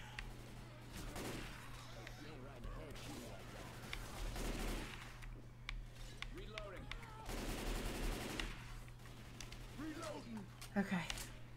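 Bursts of gunfire in Left 4 Dead 2 crackle through the game mix in repeated volleys, moderately loud, while players talk excitedly over the action.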